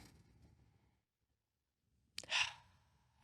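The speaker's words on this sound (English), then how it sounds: "we're going to take a deep breath" One deep breath drawn in audibly after a moment of quiet, a close, breathy rush that swells and fades.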